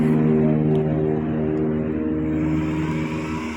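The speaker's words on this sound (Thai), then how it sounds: "ก็เร่งคันเร่งเลยนะครับเร่งคันเร่งเลย" A rewound electric hub motor wheel, its burnt original windings replaced, spins under throttle with a steady, loud whining drone and stacked tonal hum that holds evenly throughout without any talk.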